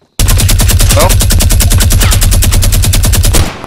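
A turret machine gun in Fortnite fires one continuous, loud burst of rapid, evenly spaced shots lasting about three seconds before cutting off.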